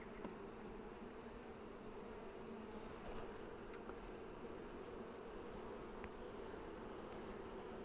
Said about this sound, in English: some bees are bringing in beautiful pollen